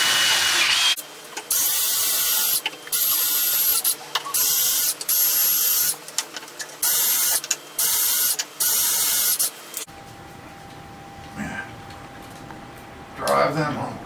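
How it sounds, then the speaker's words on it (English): A power drill pre-drills holes for mounting a Ryobi storage cabinet, making repeated short bursts of high whine separated by pauses, followed by quieter handling noise. "go ahead and pre-drill the rest of them."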